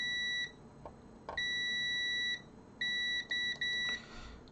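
A Memotech MTX500 home computer under keyboard repair gives several sharp electronic beeps: one short, then a long sustained tone, then a run of quick beeps, clear against a quiet background.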